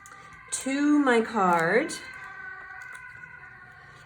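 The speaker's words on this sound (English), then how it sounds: "distracted by the siren that just went by my window" A siren passes outside a window, its wailing rising and falling for just over a second before fading, heard faintly behind a person speaking.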